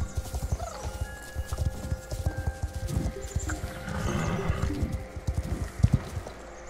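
Horse hooves clop at a walking pace on a trail ride, an uneven string of close hoofbeats with a brief whinny or snort mixed in.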